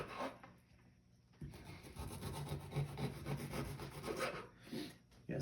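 A kitchen knife is drawn repeatedly across the sharpener on the back of a can opener, giving a steady rasping, grinding scrape close by for several seconds after a brief quiet start.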